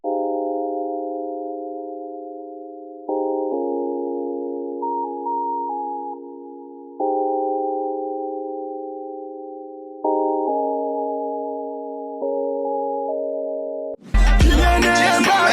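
A mellow electronic lofi chord loop with EQ and reverb plays soft sustained keys changing every few seconds, then a louder dense burst at the very end.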